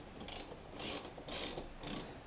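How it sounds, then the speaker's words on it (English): A ratchet tightening a bolt on a KX450F motocross bike during an oil change, heard as four bursts of rapid clicking separated by short pauses, close and fairly loud. "you just want to tighten this one down"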